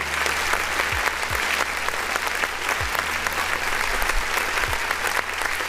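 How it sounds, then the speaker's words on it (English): Steady hand clapping runs throughout at moderate loudness as applause, with a few low swooping tones underneath and no speech over it. "Let me go ahead and clap for that real quick."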